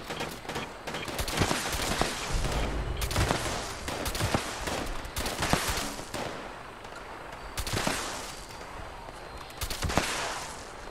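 Gunfire in the Fallout 76 video game comes as dense rapid volleys of shots in bursts with brief lulls, loud and continuous through the stretch, no talking over it.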